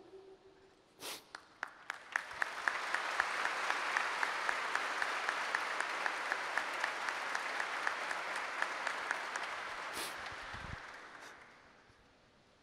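Audience applause at a formal solemn session for a medal ceremony, a broad, steady round of clapping that swells, holds for several seconds, then fades out, with a few sharp claps at the start.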